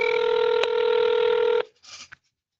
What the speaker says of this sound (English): You can see that my phone is ringing and my private number has not been shared.